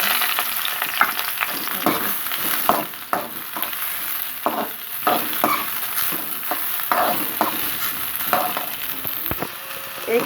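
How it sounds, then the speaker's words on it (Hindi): Chopped onions sizzle in hot oil in a pan for methi matar malai sabzi, a steady frying hiss broken by repeated scraping clicks of stirring, close and clear with no talking. "ऑयल गर्म हो चुका है तो इसमें डाल दूँगी प्याज।"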